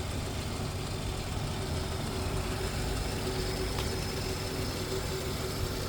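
A 2008 Pontiac Torrent's engine idles faintly and steadily, with a low, even hum and no revving.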